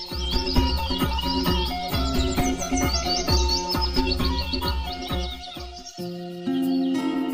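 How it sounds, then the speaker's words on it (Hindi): A huge evening flock of birds roosting in the courtyard trees of the Mahakaleshwar temple in Ujjain fills the air with loud, dense, overlapping chirps and tweets, a busy, unbroken chorus close by. "संध्या काल में लाखों की संख्या में पक्षी मंदिर के प्रांगण में लगे पेड़ पर एकत्रित होते हैं"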